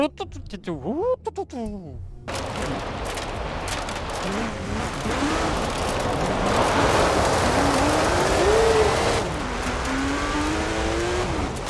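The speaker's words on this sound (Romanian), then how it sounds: "Vedem acum sunetul de Subaru." A brief spoken remark, then a Subaru engine in the video game Forza Horizon 4 roars and rises in pitch with a rushing, gritty noise, shifting gears as it accelerates.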